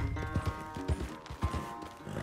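A horse's hooves clip-clop at a walking pace on a ranch in the Red Dead Redemption 2 video game, with several close, loud, evenly spaced thuds and a faint snort or whinny in the background.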